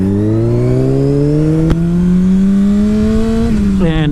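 A Honda CBR motorcycle exhaust drones loudly and close, its pitch rising steadily as the engine revs, then dropping back near the end, heard alone with no talk.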